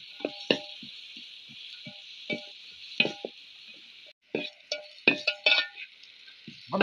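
Small onions, green chillies and curry leaves sautéing in a pan for a Kerala chicken dish: a soft steady sizzle broken by scattered clinks and scrapes of a spoon stirring against metal, close and fairly quiet.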